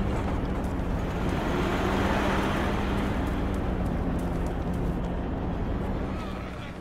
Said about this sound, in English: The trucks are so loud.